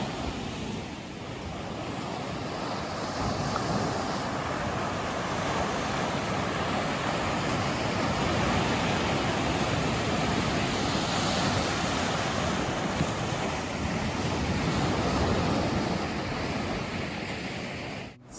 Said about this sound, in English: This is Woodlands Beach and it's stunning.